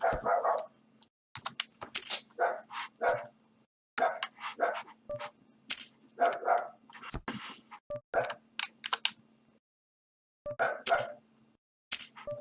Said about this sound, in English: I hope those dogs aren't too loud.